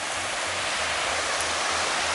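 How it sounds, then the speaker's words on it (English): Fast, high-volume river rapids near a fish ladder give a constant dense rush of water, loud and unbroken throughout. "those rapids over there, that's a lot of water right now"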